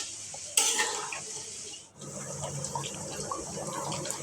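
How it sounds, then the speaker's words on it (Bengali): Water pours into a pot of lentils being cooked for a Bengali muri ghonto, a steady splashing rush that starts abruptly, breaks off briefly, then resumes as a continuous close fill. "তো দিয়ে দিলাম আরও পানি পরিমাণ মতো"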